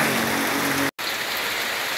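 Steady outdoor rain falls in a dense, even hiss with close drop patter, briefly cutting out for an instant before resuming at the same level; no voices are heard.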